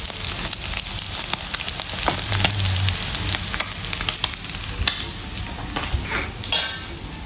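Rat meat stir-frying in a pan with onion and chili, a steady loud sizzle with crackling pops and occasional scraping stirs throughout.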